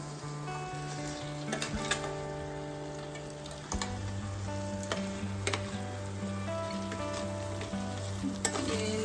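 Crab curry sizzles and fries steadily in a pan, with stirring scrapes and clacks throughout and a low, even hiss close by; there is no talking.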